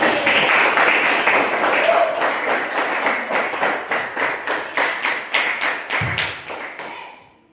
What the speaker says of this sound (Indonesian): tepuk tangan untuk Ismail.